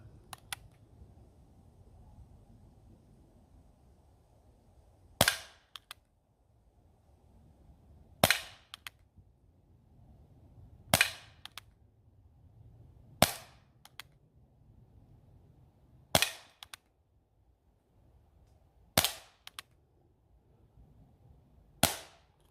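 A BSA Meteor Mark 1 air rifle fires while plinking in the woods, giving seven sharp, isolated cracks a few seconds apart over quiet outdoor background with faint rustling.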